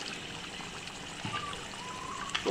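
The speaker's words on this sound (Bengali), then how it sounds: "তাই এখন আমি একটু পানি দিয়ে দিচ্ছি।" A little water trickles and pours into a pan of well-fried duck curry (hash bhuna), a brief, fairly faint stream of liquid over a steady kitchen background with no talk.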